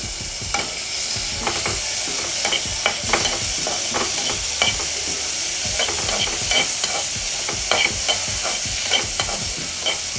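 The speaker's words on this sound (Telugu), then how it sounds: "సో టొమాటోస్ కూడా కొంచెం సేపు మెత్తబడేలాగా కుక్ చేసుకోవాలి." Tomatoes fry and sizzle in a pan under steady stirring, with a continuous sizzle and irregular scraping clicks of the spoon close up.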